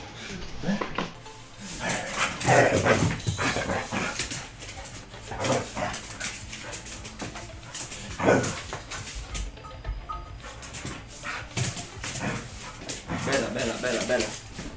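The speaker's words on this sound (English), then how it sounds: "my dog is going too crazy" A pet dog named Bella barks, yelps and whimpers excitedly in bursts close to the microphone, while a person talks and calls out over the commotion.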